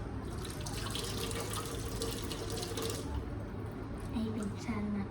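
Tap water runs steadily into a sink while dishes are washed, a constant hiss of flow with some faint clinks, under quiet voices nearby.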